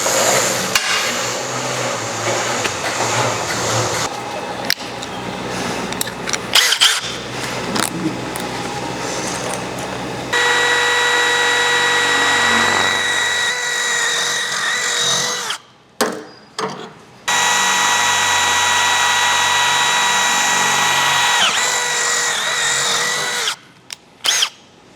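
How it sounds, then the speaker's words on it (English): A power drill bores into material during a van build, running up close in long whirring bursts. The bursts are broken by short stops and a couple of near-silent pauses, with no one talking. "So now we're going to drill this."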